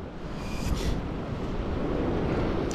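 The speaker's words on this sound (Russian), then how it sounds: "Ветер такой раздраконил" Strong wind buffets loudly and continuously on the Crimean sea shore while fishing, mixed with a low rushing of surf close by.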